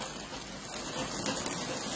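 Steady rain pours down over a flooded area of Volyn's Kovel district, where meltwater has submerged homes and yards, giving an even, continuous hiss close by with no voices.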